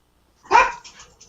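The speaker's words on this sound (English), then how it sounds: "little canine input there." A boxer dog lets out a single sharp bark at close range, followed by a short softer trailing yelp and then quiet.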